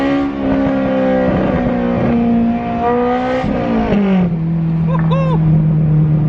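A bagged wide-body Honda S2000 drives along, its engine humming steadily and loudly up close, pitch climbing under throttle and then dropping as it eases off, with a person talking briefly over it.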